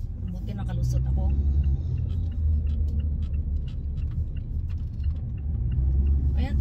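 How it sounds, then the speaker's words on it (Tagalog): Heavy road traffic with many vehicles gives a continuous low engine rumble, close and steady, with scattered clicks and knocks on top. "Ayan, traffic oh. Kala nyo walang traffic dito. Matraffic din oh."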